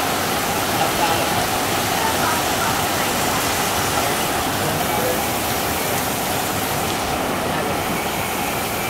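Rain pours onto a Mirinda drinks kiosk from 2020, a dense, loud and steady hiss of drops drumming without pause for the whole stretch.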